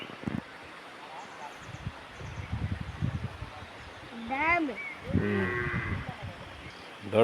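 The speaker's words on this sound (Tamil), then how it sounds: "மாடு தாண்டா இருக்கும்." Cattle moo near Gudalur in the Nilgiris, a couple of drawn-out, rising moos in the second half. They sound moderately close over rustling wind noise, and people talk faintly earlier on.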